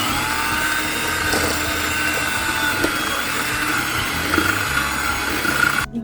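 Electric mixer whirring steadily in a bowl of butter and cream cheese, a constant close motor hum with faint scraping and bumps of the beaters.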